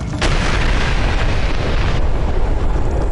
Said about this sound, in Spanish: Entonces, 9 segundos después, tuvo lugar otra enorme explosión.